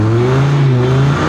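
A 1990s car engine revs loud and close as the car rolls into acceleration with wheel spin, giving a steady droning roar whose pitch sags slightly over a second.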